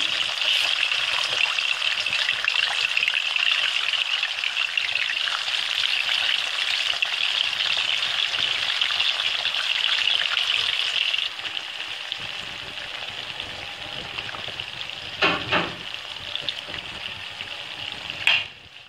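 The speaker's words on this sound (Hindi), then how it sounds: "ये हम चिकन को पहले डाल के इसको फ्राई कर लेंगे" Chicken fries in oil flavoured with cardamom for a Balochi chicken karahi over medium heat. A steady, close sizzle softens after about eleven seconds, followed by a few brief clatters.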